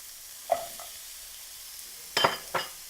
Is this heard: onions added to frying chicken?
yes